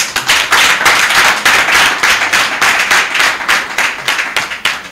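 A crowd applauds a woman at a political rally in Allada, with dense, steady clapping close by that swells and ebbs in waves for several seconds, no talk over it.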